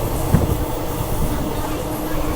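Hyderabad Hubballi express with ICF coaches running, a steady loud rumble and rattle from inside the moving train, with a faint hiss and no clear talk.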